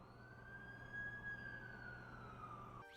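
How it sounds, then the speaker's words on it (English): An ambulance siren wails in the Spider-Man 2 video game, a steady faint tone that drifts slightly in pitch over a low background hum before it cuts off near the end. "That's the ambulance I called."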